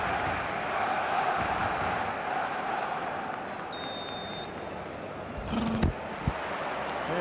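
A large stadium crowd roars and murmurs steadily before kickoff of a football match, a dense continuous wash of voices with a brief buzzer-like tone and a few sharp knocks partway through.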